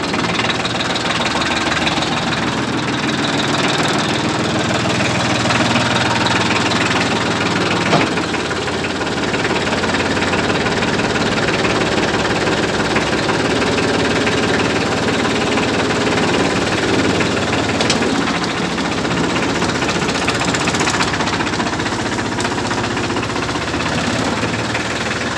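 A Shibaura tractor without its tiller attachment idles nearby, its engine giving a loud, steady, slightly knocking rumble that continues unbroken throughout.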